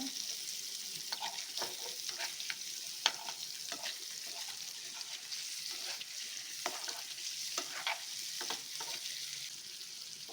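Paneer cubes fry in a pan over a low flame with salt, chilli powder and kasuri methi, giving a soft, continuous sizzle broken by light scraping stirs and occasional spatula taps, with no voices.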